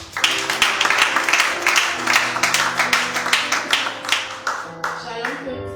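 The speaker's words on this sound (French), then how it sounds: "On acclame pour la sœur." A church congregation at a thanksgiving service claps steadily for a woman coming forward to testify, dense applause with some voices and music mixed in, fading slightly near the end.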